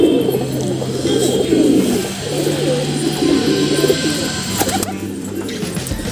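Pigeons coo in a steady, overlapping murmur nearby, with a few brief chirps and scuffs mixed in and no talking.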